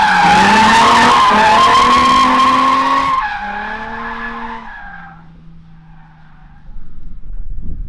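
Car drifting in the Free Fire video game, loud sustained tire skidding and squeal with engine tone that fades, then rises again near the end.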